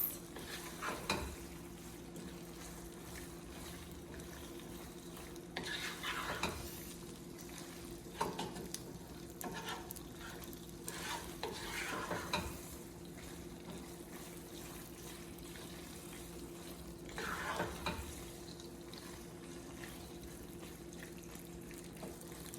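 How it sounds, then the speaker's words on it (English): Penne pasta is stirred into Alfredo sauce with spinach, giving intermittent soft wet scraping and squelching strokes spread across a quiet background hum, with no talking. "Go ahead and mix that to where every single one of your pasta pieces are coated in the sauce."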